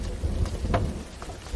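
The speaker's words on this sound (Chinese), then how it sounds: "我在等雨停" Steady rain falls in a film scene, a dense, even hiss of drops close by with a faint low rumble underneath, with no voices over it.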